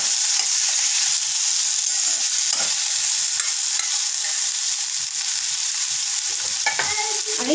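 Turmeric, chilli powder and coriander powder stirred into vegetables in a frying pan, a steady close sizzle running throughout with soft scraping of the spoon, no talk.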